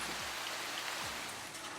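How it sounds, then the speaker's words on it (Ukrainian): Summer rain falls in a steady, dense hiss of drops on surfaces, even and unbroken from start to finish with no talking. "Літні дощі починаються бурхливо і тривають недовго."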